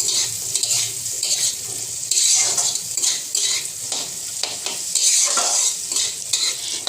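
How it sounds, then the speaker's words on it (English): Onions fry in a pan for paneer butter masala, a steady loud sizzle broken by frequent scraping stirs, close and continuous with no talking. "After this, it's time to put onions. And then we have to stir it nicely."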